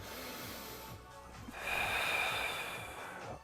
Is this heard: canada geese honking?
no